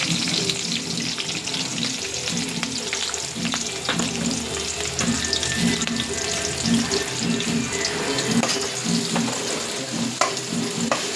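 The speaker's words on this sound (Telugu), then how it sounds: "ఫ్రై చేయాలి ఆయిల్లో పచ్చిమిర్చి ఆనియన్ గోల్డెన్ కలర్ వచ్చేంత వరకు వేయించుకోవాలి" Onions and green chillies frying steadily in hot oil in a home kitchen pan, a continuous close sizzle with occasional clinks and stirring scrapes, no talking.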